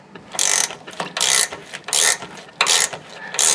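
Ratchet wrench cranking a bolt on the rear suspension of a Chevrolet Suburban truck, five loud bursts of rapid clicking in an uneven rhythm, close and without talk.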